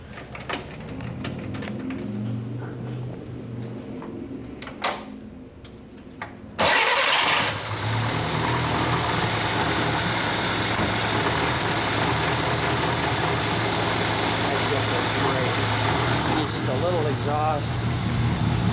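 A 1935 Adler Trumpf Junior Sport's engine cranks and catches, then settles into a steady, loud indoor idle without an exhaust pipe, following a stretch of people talking nearby.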